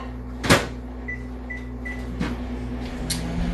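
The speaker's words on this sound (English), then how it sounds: "this is going to go into the microwave for 90 seconds" A microwave oven door opens and shuts with a sharp clunk as a mug goes in, followed by a few short electronic beeps from the keypad and another softer thump, over a steady kitchen hum.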